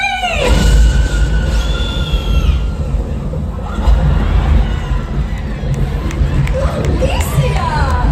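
At a special effects stage show, an audience member lets out a high piercing scream near the start, rising above a cheering, chattering crowd that keeps roaring throughout, with more shrieks and shouts toward the end.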